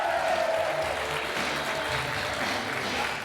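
A French TV game show studio audience claps steadily, a dense, even wash of applause with a faint whistle early, moderately loud and slowly easing off at the end.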